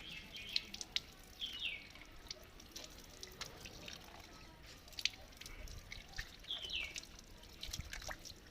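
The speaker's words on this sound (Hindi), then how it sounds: "पानी इस तरह से आप बहाएं, यूँ इस तरह से आप पानी बहाएं और इस तरह से इसको तर करें।" Water trickles and drips softly as it is poured over the forearms during wudu, the Islamic ablution, a faint, steady splashing with small irregular drops throughout.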